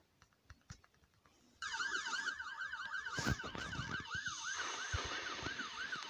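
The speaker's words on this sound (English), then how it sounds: "She's in the ambulance, Eli." An ambulance siren from the Roblox Brookhaven game wails in a fast repeating up-and-down pattern after a short stretch of quiet clicks and taps, with keyboard-like clatter continuing underneath.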